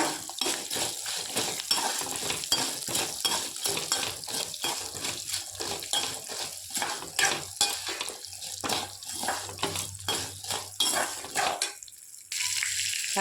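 Shallots, garlic, dried chillies and curry leaves sizzle in a pan for a beetroot chutney, with repeated scraping stirs giving a steady rhythmic clatter close by, then a brief drop near the end.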